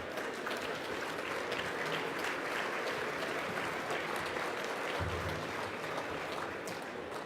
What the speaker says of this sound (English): Please give a round of applause for these folks,